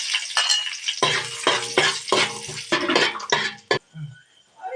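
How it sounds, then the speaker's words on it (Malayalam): Cashew nuts fry in ghee in a pan while a spoon stirs and scrapes them in repeated bursts, a crackling sizzle broken by short gaps, close and fairly loud. "കശുവണ്ടി ഇട്ടു."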